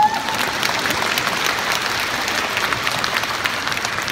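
Concert audience applauding in an arena during a show, a steady dense clapping that fills the hall from start to finish with no break.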